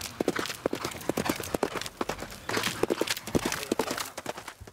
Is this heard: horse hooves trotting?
yes